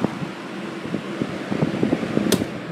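A Sunbeam 5-speed stand fan running on high speed gives a steady, close whooshing airflow with a low rumbling buffet and one brief sharp tick near the end.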